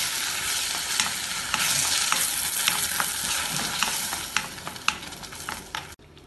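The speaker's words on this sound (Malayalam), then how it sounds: "ഇത് ഇളക്കി വഴറ്റാം." Onions are stirred and sautéed in a pan for egg lababdar curry: a continuous sizzle broken by repeated sharp scraping strokes of a spoon, close and fairly loud, with no talking.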